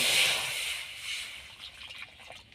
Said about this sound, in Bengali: এবারে পাশে আমি একটি কড়া বসিয়ে দিয়েছি, পরিমাণ মতো জল দিয়ে দেব